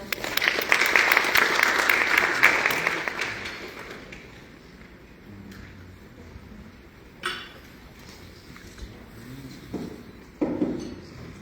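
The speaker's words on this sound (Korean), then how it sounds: "큰 박수 부탁드립니다." At a medical wellness tourism seminar, the audience applauds for about four seconds to welcome a speaker to the podium; the clapping then fades into room noise with a few scattered clinks and taps.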